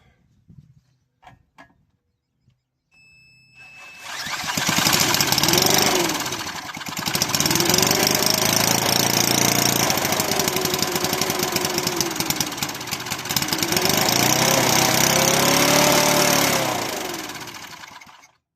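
An old Bolens Husky 18 push mower engine races up to a loud, sustained high rev, surging for long stretches after a few faint knocks and sputters, with no talk over it.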